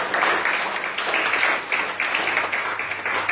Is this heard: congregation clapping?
yes